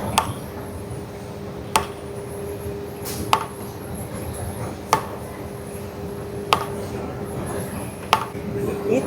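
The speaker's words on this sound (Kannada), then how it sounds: "ನಮ್ದು ಸ್ಟ್ಯಾಂಪಿಂಗ್ ಮಿಷಿನ್ ಅಲ್ಲಿ 6 ಸೋಪ್ ಆಗುತ್ತೆ ಮತ್ತೆ." Sandalwood soap bars being cut by a stamping machine in a soap factory, with sharp periodic clacks roughly every one and a half seconds over a steady mechanical hum and background noise.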